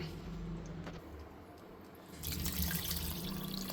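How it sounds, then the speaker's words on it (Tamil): Water runs steadily into a pressure cooker, growing louder and fuller partway through as the stream strengthens, with a faint low hum underneath. "மீதி வந்து நாலு டம்ளர் மட்டும்தான் இதில் தண்ணி விட்டு நம்ம இதை கொதிக்க போட போகிறோம்"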